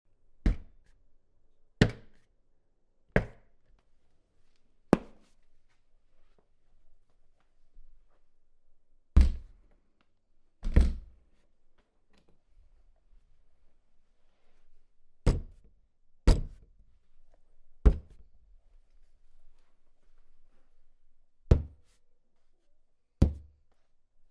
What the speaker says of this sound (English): Description of phantom sound: knocking and banging.